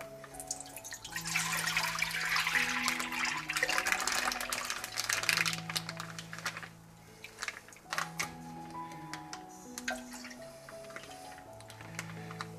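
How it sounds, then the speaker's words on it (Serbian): Milk poured into a pot, a steady liquid stream at close range over a held musical backdrop, then the pour tapering off and stopping partway through. "Prvo sipamo mleko."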